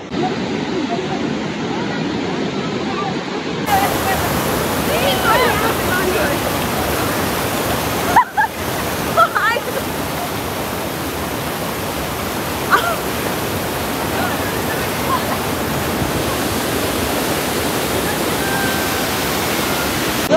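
Steady, loud rush of a waterfall near Mini Gosaikunda, Nepal, filling the whole clip, a continuous broadband roar with a few faint sounds breaking through.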